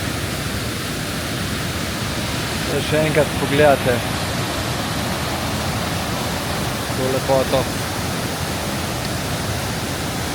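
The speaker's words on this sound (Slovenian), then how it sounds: "Takoj tlele dol, mislim, da 78 metrov visok slap Savica" Savica waterfall, 78 metres high, roars as a broad steady wash of falling water across the whole clip, with a person speaking over it.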